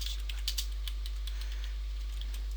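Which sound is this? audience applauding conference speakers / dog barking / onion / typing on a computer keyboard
typing on a computer keyboard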